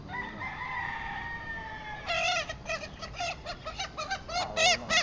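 Gamefowl roosters of a new breed crow loudly and nearby: a long drawn-out call is followed by a second bird's series of quick, choppy crows over steady background noise.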